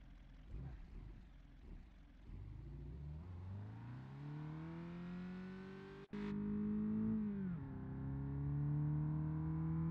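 A 2.6 liter engine in a Charger in the BeamNG Drive game cranks and catches, then revs up in a long rising pull, dips sharply and climbs again to a loud sustained drone, with no talk over it.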